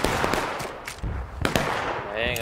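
Musket fire at rebels during a video game skirmish, several sharp cracks spread irregularly over a couple of seconds, with game noise and a voice sounding in between.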